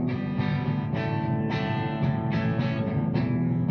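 An electric guitar plays through a Donner Beltway looper pedal with the octave effect on, giving a thick, distorted tone. Repeated strummed chords ring out close and loud, with no talking.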